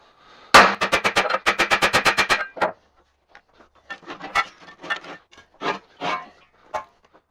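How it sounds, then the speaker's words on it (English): A hammer taps a piece of steel stock against a metal shredder screen, first as a rapid, even burst of about a dozen sharp strikes, then scattered, irregular knocks after a short pause. "use this piece of steel stock and a hammer and just tap the edge of the screen down and it'll roll the screen out"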